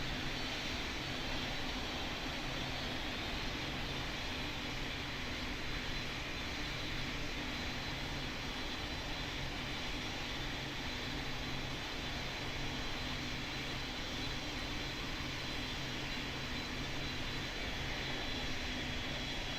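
Airliner taking off in the Pilot Training Flight Simulator game, a loud, steady, unbroken jet engine roar with no talk.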